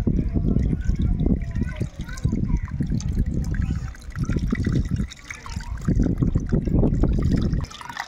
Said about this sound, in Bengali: এবার জল দিয়ে নিচ্ছি। জলটা দিতে হবে যাতে মাটি উঠে না যায়।